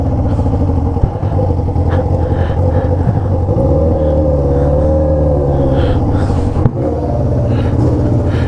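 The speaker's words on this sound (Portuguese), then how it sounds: "É o guincho dele mesmo, tio." A tow truck's engine runs close by, a loud, steady low rumble with a droning harmonic tone whose pitch shifts slightly midway, continuous throughout with no voices.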